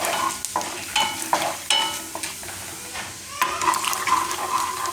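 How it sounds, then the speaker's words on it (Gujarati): Urad dal being stirred as it roasts in a pan, a run of short scraping strokes against the pan with a soft sizzle underneath, fairly close and moderately quiet. "તો દાળને થોડીક વાર આપણે આને ફેરવી લેવાનું, થોડોક એનો કલર ચેન્જ થાય એવું."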